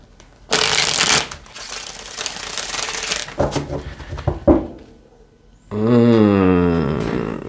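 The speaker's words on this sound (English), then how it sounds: "One last shuffle." A deck of tarot cards being shuffled up close: a loud riffling burst, then several seconds of softer sliding and tapping card sounds, and a closing brr of the deck being bridged or riffled again.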